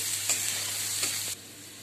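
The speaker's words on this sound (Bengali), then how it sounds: "লঙ্কার গুঁড়োটা দিয়ে ভাজবো।" Mixed vegetables fry with Kashmiri chili powder in a hot pan, producing a bright steady sizzle with two soft stirring scrapes before it suddenly drops to a quieter hiss.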